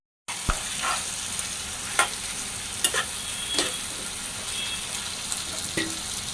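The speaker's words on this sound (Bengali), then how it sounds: "নড়াচড়া করে দিই" Spatula stirring silver carp curry with potatoes and green beans in a pan, steady sizzling broken by several scraping strokes, close and fairly loud, no voices.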